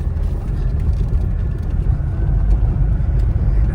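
Car driving inside a garage, a steady low engine and road rumble running continuously and fairly loud throughout, with no talking.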